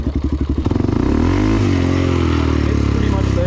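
A motorcycle fitted with an HMF aftermarket exhaust idles on its own, a close, loud, even burbling thrum with a rapid chuffing pulse that settles into a steady drone.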